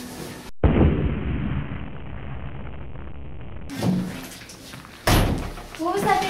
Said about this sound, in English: What was that big bang out there? The soldiers blew up the arsenal